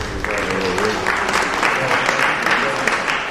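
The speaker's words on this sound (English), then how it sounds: "if the audience can give yourself a big round of applause" A debate audience applauds with dense, steady clapping that fills the whole moment.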